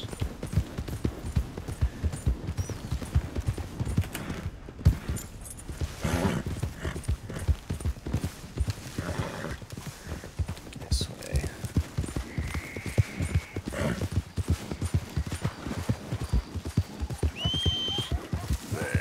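Rhythmic clip-clop of horse hooves at a steady gallop in the video game Red Dead Redemption 2, continuous and fairly close, with a brief whinny and some soft talk.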